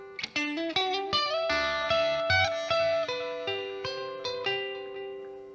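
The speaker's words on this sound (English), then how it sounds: "a little bit of reverb and delay on this one" An electric guitar plays a slow melodic lead, single notes ringing out with echoing delay repeats and a wash of reverb trailing behind them.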